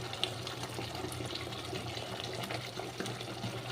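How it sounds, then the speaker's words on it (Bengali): Water pours into cumin paste in a pan as a faint, steady trickling gush, continuous and close, with a low background hum and no talking. "আমি এবার জল দিয়ে দিচ্ছি।"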